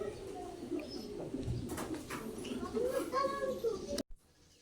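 Pigeons cooing inside a large loft, soft repeated coos from several birds close by, with people talking and children's voices in the background, cutting off abruptly near the end.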